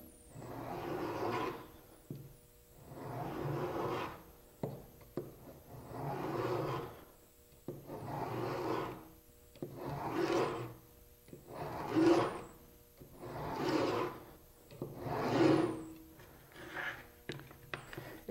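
A veneer saw makes a series of pulling cuts through wood against a fence, about eight evenly spaced rasping strokes, close and quiet.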